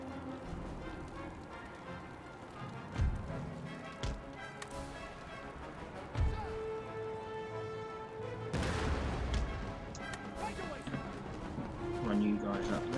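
Cannon artillery fire in Empire: Total War, a Great Britain campaign battle, arrives as several deep booms spread across the stretch, with footsteps and battle clatter in between and someone talking over it.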